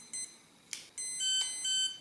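Faint, high electronic beeps from an electric skateboard's speed controller sound in short bursts, a couple of quick tones signalling brake on, with a brief click between, in a quiet room.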